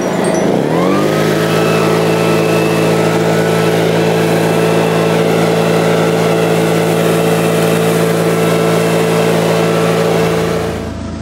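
A 4-stroke 76cc engine leaf blower runs steadily at high revs after spooling up, with a loud, continuous engine drone and air rush that holds for about ten seconds before easing off at the end.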